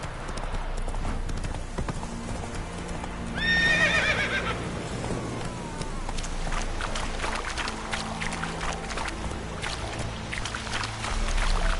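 A horse gallops in The Witcher 3 with rapid, rhythmic hoofbeats up close, a loud whinny partway through, and the pounding continuing to the end.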